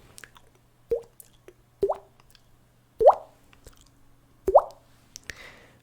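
A mouth makes a series of wet, hollow plopping pops, four or five spaced about a second apart, imitating water droplets falling, close and quiet.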